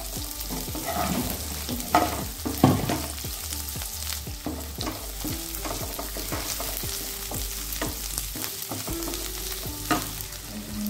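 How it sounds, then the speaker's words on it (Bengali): Two medium chopped onions frying in oil in a pan for a Bengali rice dish, a steady loud sizzle with repeated scraping stirs throughout. "আমি এখানে দুটো মিডিয়াম সাইজের পেঁয়াজ কুচি করে নিয়েছি, সেটা দিয়ে দিলাম।"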